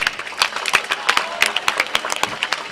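Spectators clap for a clean-bowled wicket at a semi-final of a local premier league cricket match, giving a scattered, uneven run of hand claps from a small crowd nearby rather than a full roar.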